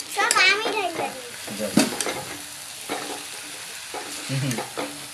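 Coriander leaves are stirred in a frying pan, giving a steady close sizzle punctuated by scraping and clanking utensil strokes, with a voice talking briefly at the start.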